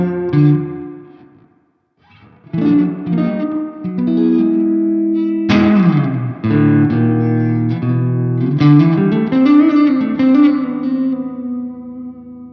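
Electric guitar played through a Laney IRF Dualtop 60-watt dual-channel amp with a Secret Path reverb pedal: chords and single notes ring out with a deep, wet reverb tail, close and fairly loud, with a short gap near the start.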